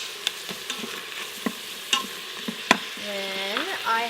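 Ginger garlic paste, about a tablespoon each, hits hot onions in a pan for a healthy butter paneer, giving a steady soft sizzle broken by sharp spoon knocks and stirring scrapes, with a brief tonal squeak near the end.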